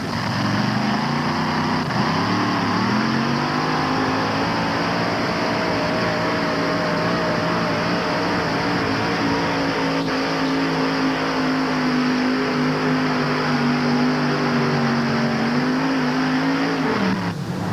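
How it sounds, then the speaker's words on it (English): A big supercharged Rodex 514 engine powers a pulling rig at the 1988 NTPA Grand Nationals tractor pull in Syracuse. It gives a loud, sustained roar that climbs in pitch early on, holds steady through the pull and drops away near the end. "His rig is powered by a big supercharged Rodex 514."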